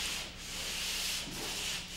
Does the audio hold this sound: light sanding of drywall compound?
yes